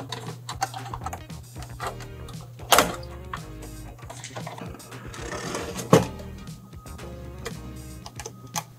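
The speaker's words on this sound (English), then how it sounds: "Now I fasten all Torx T8 and Phillips screws, excepting the two Torx screws which are for the power supply" A screwdriver drives Torx T8 and Phillips screws into a PS4 Pro during reassembly, giving small close clicks and ticking scrapes with a couple of sharper knocks, and faint talk now and then.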